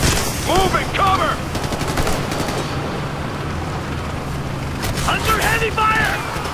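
A firefight in the Ghost Recon video game, with loud bursts of gunfire clustered at the start and again near the end, plus ricochet-like whistles, under a constant rumbling backdrop and voices in between.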